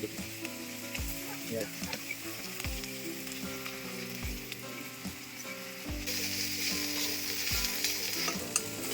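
Wild leafy greens fry in a pan with a close, continuous sizzle, broken by regular stirring knocks and scrapes of a spoon against the pan, growing brighter toward the end.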